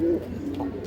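Pigeons coo in a low, murmuring drone at a pigeon sale in Hooghly, a brief, steady close sound with faint background bustle.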